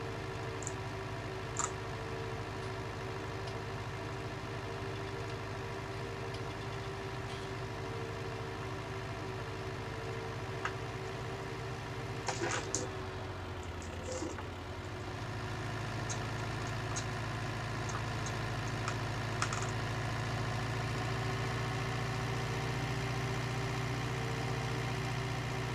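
A tractor engine idling, a steady low rumble that holds evenly throughout and deepens slightly partway through, heard alone without talk with a few faint clicks.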